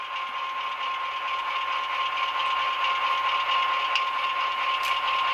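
Dynamic brake sound from an ESU LokSound decoder in a Walthers Proto HO scale EMD GP9 model locomotive, a steady whining electric drone with a constant tone, mechanical hum and faint rattle, no talk.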